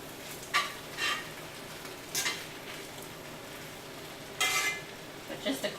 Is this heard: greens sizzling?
yes